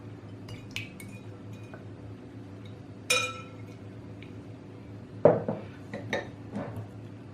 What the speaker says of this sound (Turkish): Bunun için 4 tane yumurtamı kaseme boşaltıyorum